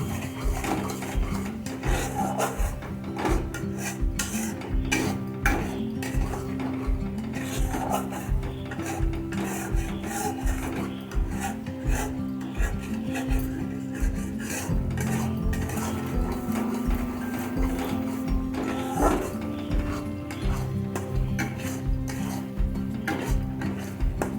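A spatula scrapes and taps steadily against a pan while masala is sautéed over medium heat. The clinks and rasping strokes come in a quick, regular rhythm, close and continuous, under a faint background hum.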